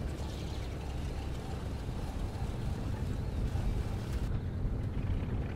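A Henschel Hs129 B-3 ground-attack plane in War Thunder drones on its chronically unreliable, low-horsepower French engines: a loud, steady rumble that holds unbroken from start to finish, with no voices.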